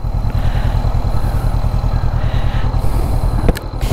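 A Honda CB500X motorcycle idles close by with a steady low engine rumble, accompanied by a sharp clunk near the end as it comes to a stop.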